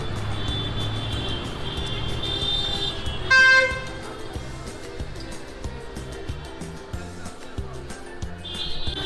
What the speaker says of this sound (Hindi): बहुत ट्रैफिक है यहाँ पे